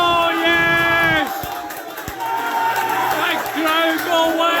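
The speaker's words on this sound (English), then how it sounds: "The crowd go wild!" A crowd roars and cheers wildly at a football match, loud bursts of whoops and shouting swelling near the start and end, with a lower rumble of voices in between.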